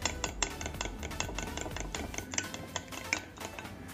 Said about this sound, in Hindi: इसमें आपने 1 पिंच नमक ऐड करना है और आप इसको अच्छे से मिक्स कर लें।